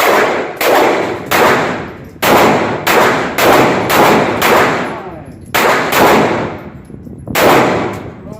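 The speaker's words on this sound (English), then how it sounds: "ready in the firing line. You may commence firing." Handgun shots fired on an outdoor shooting range, about a dozen loud, sharp reports in uneven succession, some in quick pairs, each ringing out with a short echoing tail.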